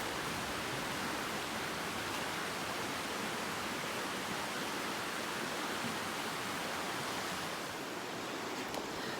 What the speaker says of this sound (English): We're at the creek or the river.